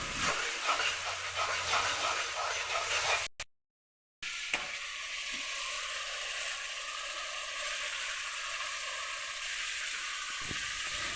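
Fish sizzles in a pan of hot oil, a steady close hissing crackle broken by a brief silent gap, then continuing evenly.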